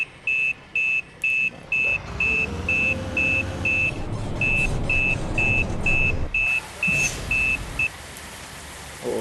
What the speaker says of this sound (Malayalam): റിവേഴ്സ് ഇടാം